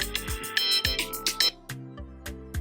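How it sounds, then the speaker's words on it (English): A phone alarm plays alone, a bright electronic ringtone melody with a repeating pattern of chiming tones over low synth notes, close and clear. "Wow, that was my alarm."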